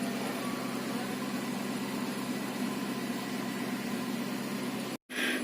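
A manual car's engine idles steadily nearby, a constant low hum with a brief dropout near the end and no talking.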